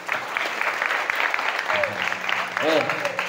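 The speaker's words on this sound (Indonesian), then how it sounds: "Tepuk tangan buat Aris hari ini." Middle school students at a motivational seminar in Bogor applaud a student named Aris, a steady patter of clapping from a roomful of people, with voices talking over it toward the end.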